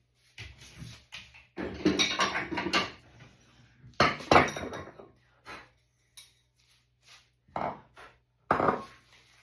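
Dishes and cutlery clink and clatter in bursts while washing up at a kitchen sink, close and irregular, with quiet gaps between clusters of knocks.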